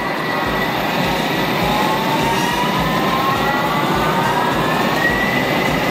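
A Thermomix blends sweet potato soup at high speed, giving a loud, steady whirring roar with a faint rising whine that runs unbroken for the full length, with no voices over it.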